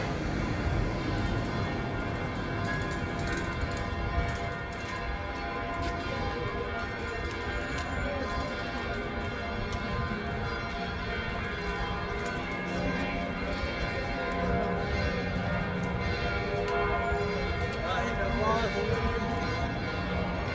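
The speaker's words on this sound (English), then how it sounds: "but listen to the bells." Church bells ringing near the Garden of Gethsemane in Jerusalem during a Palm Sunday procession, a steady dense peal running throughout amid crowd noise and voices.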